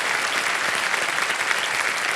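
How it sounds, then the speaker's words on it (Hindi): Studio audience applauding steadily on the set of the Hindi quiz show Kaun Banega Crorepati Season 15, a dense, even wash of clapping with no voices over it. "जीते हैं, तालियां बज जाए इनके लिए।"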